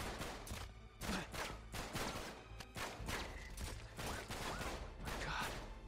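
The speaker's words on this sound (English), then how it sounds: "You are super getting shot at right now." Gunfire in Uncharted 3 rains toward the player in scattered cracks and short volleys, fairly faint and steady, with shots landing every second or so amid a busy background.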